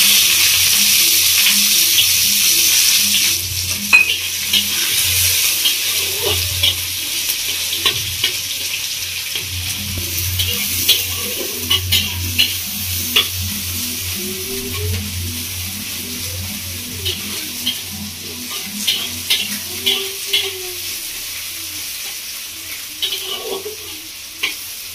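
Chopped onions, two medium ones, fry and sizzle in a pan for a Bengali prawn dish, a steady close hiss with occasional stirring scrapes and clinks throughout, no talking.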